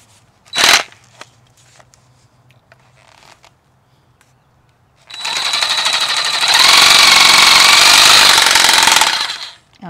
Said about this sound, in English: I'm going to do this with my Sawzall because I want to get a really clean cut